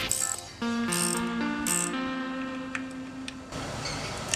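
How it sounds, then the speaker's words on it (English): Ratchet loosening the clutch spring bolts on a Honda CBR250RR motorbike, giving close, rapid clicking ratchet bursts under a steady tonal hum, loud and with no talking. "To remove the clutch springs, use a ratchet in a diagonal fashion."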